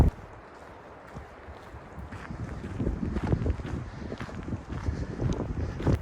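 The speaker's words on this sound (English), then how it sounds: "It's pretty windy today." Strong wind sweeping over an open mountain saddle meadow in Arizona, a rough rushing buffet on the microphone that rises and grows louder partway through.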